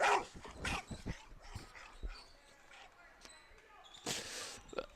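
Recorded dog barking played from a phone in a gym during a girls high school basketball game, a few sharp barks mixed with chatter, ball bounces and crowd noise.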